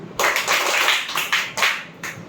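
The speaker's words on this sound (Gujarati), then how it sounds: "આપણે પાંચ તાળી પાડી" Children in a primary classroom clapping hands together during a math lesson, a dense burst of many claps that swells and fades in a few uneven rounds, close and fairly loud with no voices over it.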